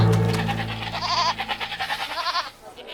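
A goat bleats up close, one long wavering cry that breaks into a rapid trembling series of bleats before fading out, loud and alone.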